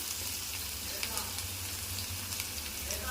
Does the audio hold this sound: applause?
no